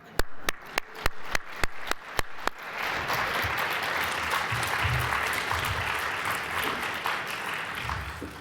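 A few sharp, isolated claps give way to a sustained wave of applause from a crowd at a science journalism award ceremony, steady and full for several seconds.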